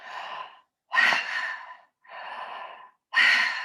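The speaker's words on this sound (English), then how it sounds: "So it is genuinely breathing in and out through the mouth" Breathwork breathing in and out through the mouth: four long, loud, close breaths alternate inhale and exhale at a steady slow rhythm, breathy and rushing, with short silent gaps between and no talk.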